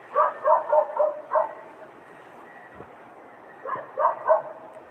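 Close, loud dog barks come in two clusters of rapid yaps with a quiet gap between them.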